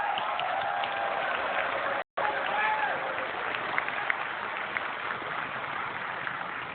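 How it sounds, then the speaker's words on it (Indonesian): Audience applause at an Indonesian presidential and vice-presidential debate, a steady, dense wash of clapping from a large crowd that fills the hall throughout, broken by one brief dropout. "Pak, kita berikan tepuk tangan kalau itu."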